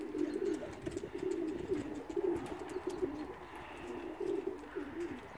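Racing pigeons coo steadily and close by in a loft, their soft, throaty calls repeating continuously over a low background hum, with no talking.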